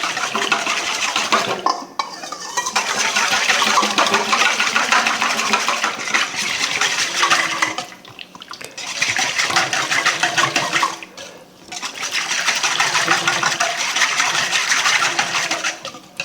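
A whisk beats oil in a bowl for a pork loin kabob marinade, making a loud, close, rapid scraping and swishing that runs in long bursts broken by two or three brief pauses.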